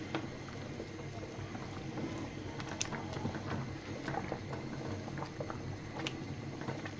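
Date-juice rice pudding bubbles in a pot while being stirred, giving a steady low simmering burble with scattered soft scrapes and clicks from the stirring, close and fairly quiet.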